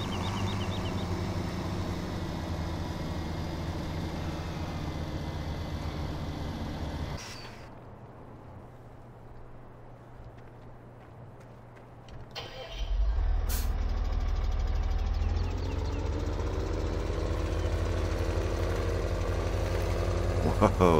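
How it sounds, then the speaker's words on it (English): A big tractor engine in Farming Simulator 17 rumbles at idle, fades to a quieter drone partway through, then returns with a louder, deeper engine roar that holds steady to the end. "Let's go get the big tractor."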